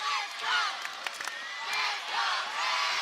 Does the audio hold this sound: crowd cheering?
yes